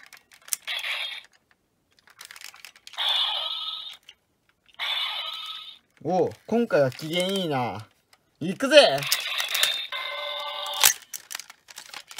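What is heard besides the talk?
old Boukenger Zubaan toy playing its sounds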